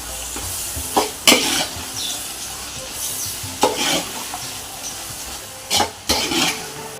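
Tomatoes, mint and coriander are stirred and sautéed in a pot for mutton biryani, with a soft steady sizzle broken by several sharp scrapes and clanks of the spoon against the pot.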